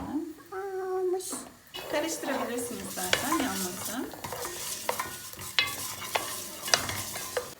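Rice stirred and toasting in a hot pan for a green bean dish, with a steady sizzle and repeated scraping stir strokes; a voice briefly chimes in at the start.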